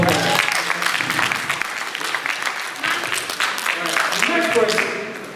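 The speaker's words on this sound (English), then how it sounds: "Let's please give a round of applause for that." A crowd applauds steadily for several seconds, a dense wash of clapping that stays fairly loud throughout before easing slightly at the end.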